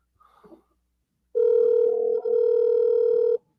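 A telephone call ringing out before reaching voicemail: a couple of faint clicks, then one loud, steady electronic ring tone held for about two seconds that stops abruptly.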